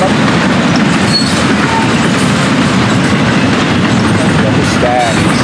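A freight train of double-stack and tank cars passes close by on the Florida East Coast line, a loud steady roar of rolling wheels with rhythmic clacking and brief wheel squeals throughout.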